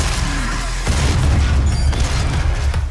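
Heavy booming blasts from a shotgun fired at demons in Doom, loud and close, with a deep low thump near the start and a second heavy report about a second in, ringing into mechanical clatter.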